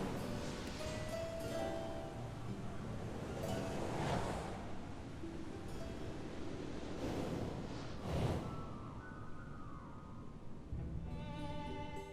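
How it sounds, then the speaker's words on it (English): Waterfalls in the Final Fantasy 14 video game rush as a steady, soft wash of broadband water noise with gentle swells, distant and continuous, with faint game tones over it. "Those waterfalls are flowing upwards."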